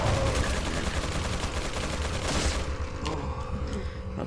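Loud, sustained gunfire in Resident Evil 4, with dense rapid shots running without a break and a few sharper cracks near the end.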